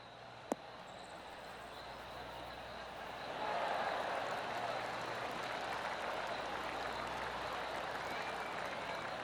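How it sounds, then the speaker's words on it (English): A golf gallery in PGA TOUR 2K23 applauds after an approach shot onto the 5th green, a steady wash of clapping that swells partway through and holds, with a faint sharp tick early on. "That deserves a golf clap."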